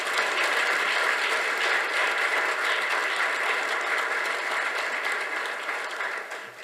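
A packed hall claps at an appreciation ceremony, many hands producing a dense, sustained patter at a steady level that tapers off slightly at the end, with no voices heard.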